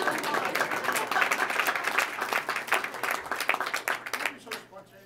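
Applause from attendees at a mayors' press conference on marriage equality, fairly dense clapping at moderate loudness that thins and fades near the end, with speech-like murmur mixed in.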